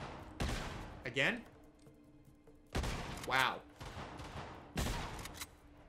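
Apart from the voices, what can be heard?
gunshots in the video game Uncharted: Golden Abyss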